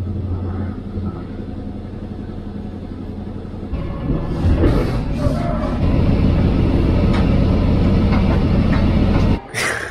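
Inside a moving train, a steady, loud low rumble of wheels and carriage fills the space, with rattles and clatter rising midway and continuing without talk.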